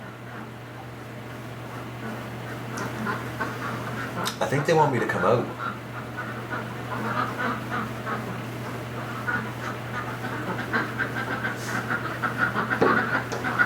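Ducks on a winter deck keep up a chorus of quacking just outside, steady and fairly near, with a steady hum underneath and a person speaking over it.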